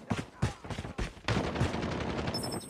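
Sentry gun fire in Call of Duty comes in short bursts, then turns into a sustained rapid volley, loud and close, with a brief electronic beep near the end.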